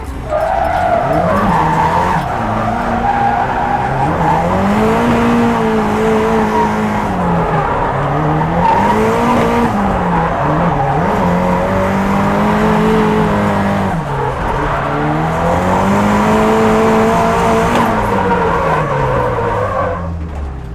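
A Nissan 180SX race car with a 450 bhp engine and a 350Z gearbox drives a track day in fourth gear. The engine rises and falls loudly and continuously, with tire squeal on corners and the revs climbing between shifts.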